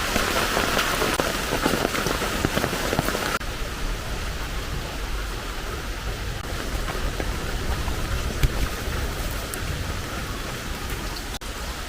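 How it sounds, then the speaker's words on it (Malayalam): Heavy monsoon rain pours down in a sudden strong downpour, a dense, loud and constant hiss of water drumming on surfaces with no voices. "മഴ കുറഞ്ഞു പെട്ടെന്ന് ഒരൊറ്റ വരവും ഒരു ശക്തമായ പെയ്ത്തും"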